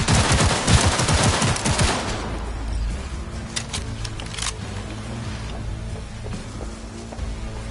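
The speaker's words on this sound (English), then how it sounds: "They're opening fire!" Enemy gunfire in Cyberpunk 2077, a fast loud burst of automatic shots for about two seconds, then scattered fainter shots and impacts in the background.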